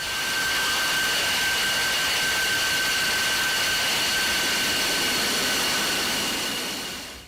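An F-22 Raptor jet engine roars steadily and loudly as the fighter taxis toward spectators at an air show, a dense broadband rush with a high whine running through it, holding constant before easing off at the end.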